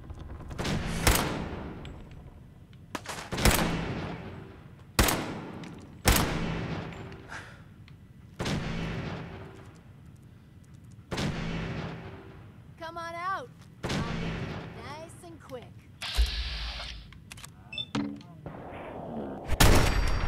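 Gunshots in Fallout 4: about eight loud, sharp reports spaced a couple of seconds apart, each decaying quickly, with game sound effects and a voice in the gaps between shots.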